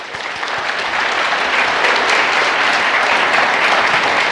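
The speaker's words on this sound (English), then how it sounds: "So how about a big round of applause for YY?" Sustained, dense applause fills a large audience hall at a Lenovo Transform corporate event in New York, steady and loud throughout with no break or voice on top.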